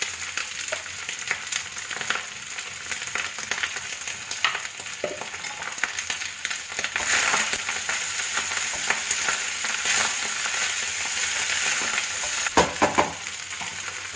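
Leftover rice fries with ground black pepper in a hot pan, a continuous crackling sizzle with occasional scrapes and stirring clatters throughout.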